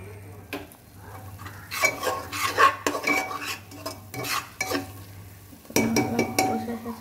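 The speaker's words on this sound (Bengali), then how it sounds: "বন্ধুরা, এই যে মশলা কষে যাচ্ছে," Spices sautéing in a pan while a metal spoon stirs them, with steady scraping, clinks against the pan and a faint sizzle underneath, all close up and busy.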